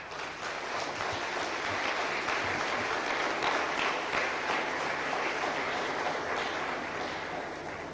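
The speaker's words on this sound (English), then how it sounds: "use this opportunity to recognize and applaud the very strong voice that His Excellency President Kagame has become for this continent." A large audience gives sustained, even applause for a president at a formal event on the Sustainable Development Goals. The clapping forms a continuous roar with no talk over it.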